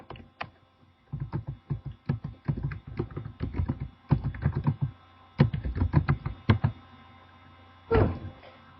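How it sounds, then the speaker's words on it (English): Keys tapped on a computer keyboard in short irregular bursts, close and fairly quiet, with brief pauses between runs of typing and no talking. "Did you guys see me typing?"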